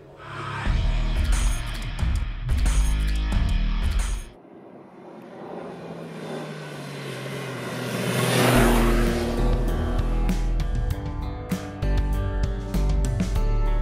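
Engine of an MV Agusta Turismo Veloce RC motorcycle on a test ride, loud and close, with revving surges, a brief drop-off and a building acceleration before steady riding resumes.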